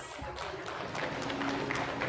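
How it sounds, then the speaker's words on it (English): Brief applause from a ceremony audience at a university officials' induction, a dense continuous patter of many hands at moderate distance, steady across the short stretch. "A big round of applause, please, for our designated officials."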